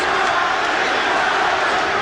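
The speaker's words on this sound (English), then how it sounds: "Already the crowd chanting Murray's name." A boxing arena crowd chants a fighter's name at a 1990 bout, a loud, dense roar of many voices that carries on without a break.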